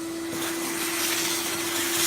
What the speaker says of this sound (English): if I hoover this out really quick